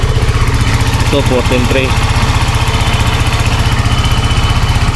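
A vehicle engine idles at a steady, even rumble throughout while a battery's charging voltage is checked, with someone speaking briefly over it.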